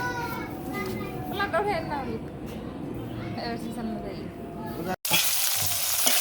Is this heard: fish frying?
yes